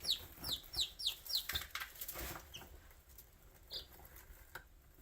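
Baby chicks in a brooder giving a quick run of high, rising peeps in the first half, then a single later chirp, faint and close, with light pattering in between.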